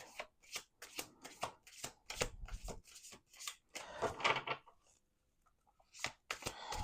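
A deck of tarot cards shuffled by hand: rapid riffling bursts repeat in a quick irregular rhythm, close and fairly quiet, then pause briefly before the shuffling starts again.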